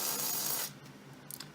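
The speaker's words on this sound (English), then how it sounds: "I think it helps to just spray everything down" Solvent sprayed down over disassembled QF XT keyboard parts, a steady broadband hiss for over half a second that cuts off, followed by a few faint short spritzes.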